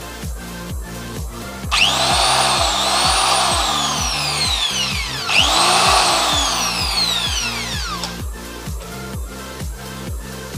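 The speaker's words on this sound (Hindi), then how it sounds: "ये हो गया है प्रॉपरली वर्क कर रहा है ये ड्रिल मशीन" An electric drill, just fitted with a replacement power cord, spins up twice with a loud rising and falling motor whine, each burst lasting a few seconds over a steady ticking hum.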